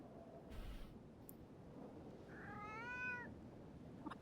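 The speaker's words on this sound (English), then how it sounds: "He's meowing so sweetly." A single sweet, drawn-out meow from a cat in the game Foolish Mortals, rising and falling over a faint hiss with a couple of soft clicks before it.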